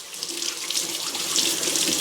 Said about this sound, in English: Let me rinse my hands real quick here.